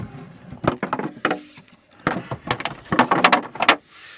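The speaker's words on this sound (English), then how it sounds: "Click clunk, that just clips back into place." A plastic seat part in a 2004 Citroen Berlingo Chapel Motorhomes camper is clipped back into place, giving several close clicks and clunky knocks in quick, uneven bursts with handling noise between them.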